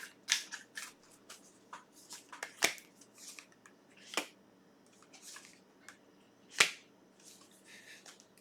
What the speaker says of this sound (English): Take a few cards from the universe to close this off.